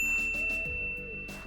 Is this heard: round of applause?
no